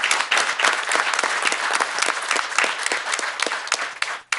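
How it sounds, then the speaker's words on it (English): An audience at a city council meeting claps steadily for about four seconds, a dense and close round of applause that tapers off at the end. "let's give them a round of applause"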